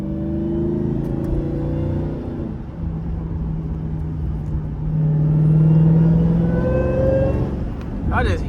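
A Dodge Challenger Hellcat being driven through a small town, its engine and supercharger whine rising in steady tonal sweeps over a low road rumble, with some wind noise and a voice speaking over it.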